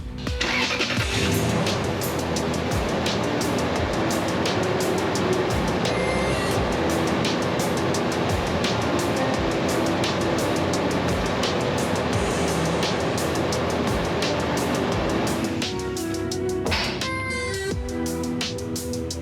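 A lifted Lexus GX470, freshly tuned up, starts and settles into a steady, smooth idle that holds loud and close for nearly twenty seconds, with a brief change near the end.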